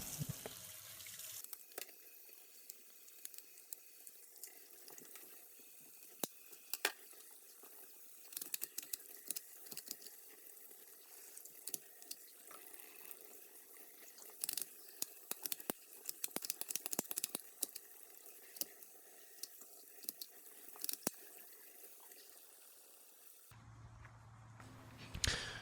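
Running tap water pours steadily over a Ruger LCP .380 pistol as it is rinsed in a sink, a continuous splashing stream with scattered drips and small clicks, alone with no voices, ending with a brief change in tone.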